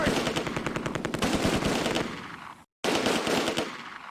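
Heavy automatic gunfire in the World War II strategy game Close Combat: A Bridge Too Far, loud rapid machine-gun bursts repeating in a fast rhythm, briefly cutting to silence before resuming.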